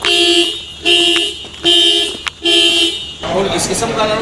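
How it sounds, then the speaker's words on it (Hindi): A car alarm sounds by itself, sending out repeated loud electronic tone bursts in a steady on-off pattern, about four cycles, before breaking off into noisy background with a voice. "और इस किस्म का अलार्म मैंने सुना भी नहीं आज तक"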